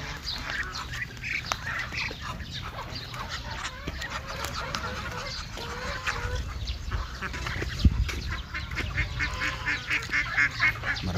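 Ducks quack and chickens cluck together in a busy flock, near and continuous, with occasional louder calls standing out.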